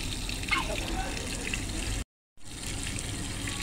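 Water gushes steadily from a tap into a sink, close and continuous, then cuts out briefly before flowing again, with a voice faintly mixed in.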